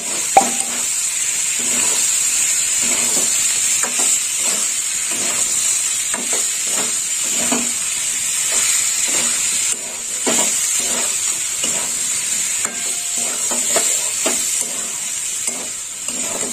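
Bottle gourd sautéing in a pan with salt and red chilli powder, a loud continuous sizzle broken by repeated scraping stirs at an irregular rhythm, heard close with no talking.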